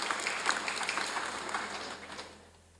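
Applause from the audience at a graduation ceremony at STMIK Komputama Majenang, a steady patter of many hands clapping that fades away toward the end, moderately distant.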